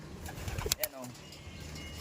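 Racing pigeons in a loft give soft, low coos close by, with a brief flutter among them, while someone speaks over the birds.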